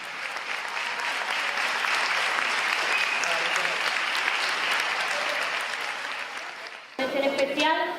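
Audience applause at a municipal sports gala in Jarandilla de la Vera, a dense, sustained clapping from a large room that fades slightly before a voice resumes speaking at the end.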